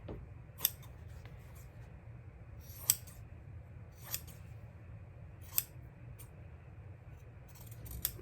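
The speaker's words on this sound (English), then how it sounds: "basically what I did is just cut pieces of fabric out like" Scissors snipping through fabric pieces for a junk journal cover, four or five sharp, isolated cuts spaced a second or more apart over a low, steady background hum.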